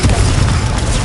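Expulso spell blast in Hogwarts Legacy, a loud, heavy boom with a thick low rumble that fills the whole second without a break.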